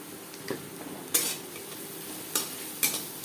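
A utensil stirs onions with salt, turmeric, ginger-chili paste and spices in a pan, giving several sharp scrapes and clinks over a soft steady sizzle, with no talking.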